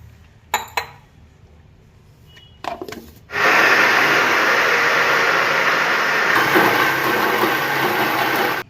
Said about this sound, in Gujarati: બધી દાળ મિક્સરના જારમાં લઈને પીસી નાખીએ